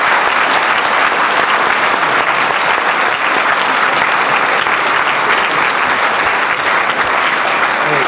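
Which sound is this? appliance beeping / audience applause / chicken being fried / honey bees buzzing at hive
audience applause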